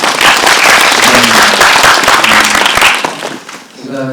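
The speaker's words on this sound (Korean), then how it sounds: "다시 한번 박수 보내드릴까요?" An audience at a film screening Q&A claps loudly, a dense burst of applause that fades after about three seconds and leaves someone speaking afterward.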